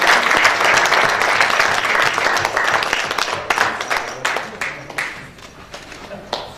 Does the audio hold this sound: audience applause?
yes